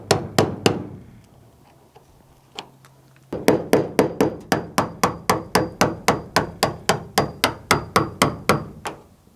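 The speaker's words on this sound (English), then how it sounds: "I'm going to keep chiseling on some of this" A hammer strikes a chisel cutting into the rusted metal quarter panel of a GTO during restoration: a few blows, a pause, then a long steady run of sharp, evenly spaced metallic hits up close.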